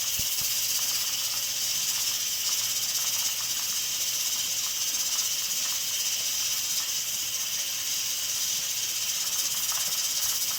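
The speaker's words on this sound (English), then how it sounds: "It's still releasing steam." Steam hisses steadily from the release valve of a pressure canner during home canning, a continuous bright, airy rush that stays at an even level from start to finish with no talking over it.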